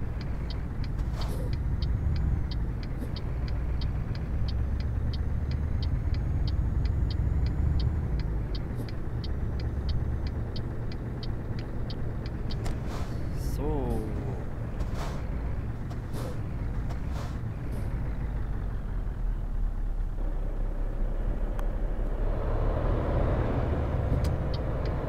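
A truck in Euro Truck Simulator 2 pulls away with a steady, close engine rumble that runs throughout. Short hissing and clicking bursts, like air brakes and gear changes, cut in along the way, and no voices are heard.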